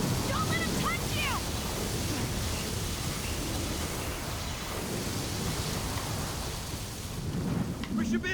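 A lightning flurry in Gears of War 4: steady, loud roaring rain and thunder rumble without letup, with a few brief high chirps near the start and end.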